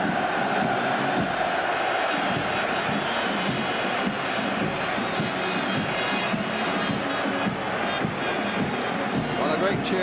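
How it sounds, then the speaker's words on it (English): A great crowd of West Ham fans at Wembley for the 1980 FA Cup Final against Arsenal cheers as their team comes out. A dense, steady roar fills the whole stretch without letting up. "a great cheer from the West Ham fans behind that tunnel as their team come out"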